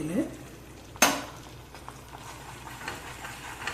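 Thick coconut burfi mixture being stirred in a pan, with a sharp metallic clack from a spoon against the pan early on, then soft scraping and faint bubbling.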